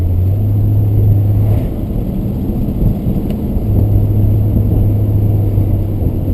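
A 1966 Plymouth Fury III drives along with a smooth, quiet low engine drone and road rumble heard from inside, a steady tone that dips briefly in the middle, no voices.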